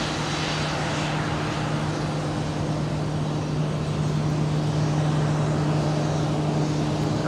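Jet aircraft arriving at an airport on the team flight carrying the University of Oklahoma baseball squad into Gainesville, Florida: a steady, loud engine roar with a constant low hum, continuous throughout without breaks.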